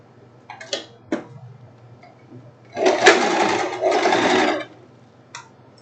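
Sewing machine stitching a seam on a silk tank top in fine fabric, running in two steady bursts of a couple of seconds with brief clicks and handling taps before and after, close and fairly loud.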